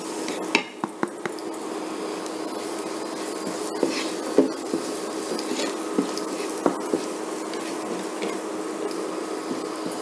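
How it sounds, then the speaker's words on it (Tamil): Garlic with chilli and coriander powders frying in oil for a radish kola, a soft steady sizzle broken by sharp metallic clinks and scrapes of a spoon against the pan. "பூண்டு எல்லாத்தையும், மிளகாத்தூள், மல்லித்தூள் எல்லாத்தையும் ஒன்றா போட்டு"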